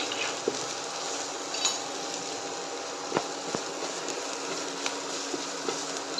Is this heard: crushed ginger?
yes